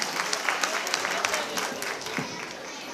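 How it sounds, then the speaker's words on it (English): Audience applause at a school annual day celebration: steady, moderately loud clapping from a crowd over about three seconds, with voices mixed in. "Please give a big round of applause."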